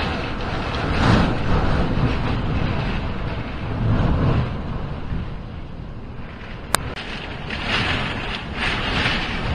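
Hurricane Dorian's wind roars across Sapphire Beach on St Thomas in the Virgin Islands, a loud, continuous rush with gusting surges and buffeting against the microphone, broken by one brief sharp click.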